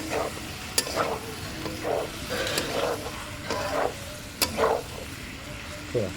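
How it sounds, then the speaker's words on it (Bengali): Boiled chicken pieces sautéed in a pan, a low sizzle under repeated rhythmic scraping strokes of a spatula, about a dozen stirs, close up with no speech. "চিকেনটা দিয়ে দিলাম, দিয়ে এবার ভালো করে কষিয়ে নেব।"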